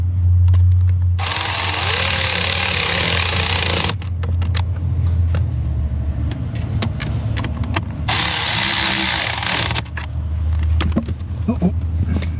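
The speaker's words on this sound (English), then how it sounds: "These just go into plastic, so I'm not as scared to start them with power tools" A power drill whirs in two long bursts, driving screws into plastic in an auto repair shop, with clicks and handling noise between runs over a low steady hum.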